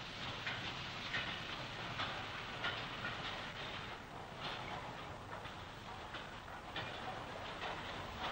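A narrow gauge steam locomotive of the County Donegal railway gets a goods train for Letterkenny underway, its steady rumble and rhythmic chuffing mixed with clattering wagons, loud and continuous throughout.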